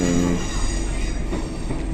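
A train rolls along with a steady low rumble and faint wheel squeal, heard from inside a carriage throughout without talk.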